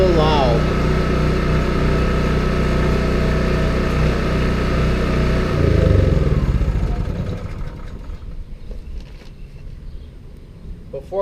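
A small gasoline engine with a carburetor runs at a steady, loud, close drone, then sputters and fades out as it dies down near the end.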